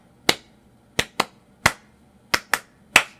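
Seven sharp, isolated hand claps at uneven intervals, crisp and close, in a deliberate demonstration of English-style and French-style applause, with quiet between each clap.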